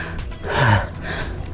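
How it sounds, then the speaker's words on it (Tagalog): A single heavy gasping breath, loud and close, from a cyclist after a hilly ride on a Marinduque loop route, with a rough airy quality and no talking. "Hingal na hingal ako"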